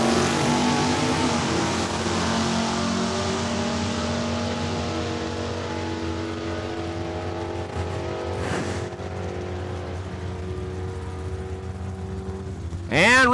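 A Pontiac Acadian drag racing at Saskatchewan International Raceway in Saskatoon, a loud engine roaring steadily with shifting harmonic tones that slowly fall away, followed by a sudden burst of another engine at the end.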